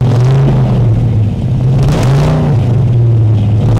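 A 1969 Mustang engine with a MagnaFlow exhaust idles loud and close, with a couple of short revs rising and falling.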